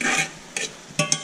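Shrimp frying in a pan, a hissing sizzle that swells in three or four short bursts as they are stirred or moved, close and alone without any voices.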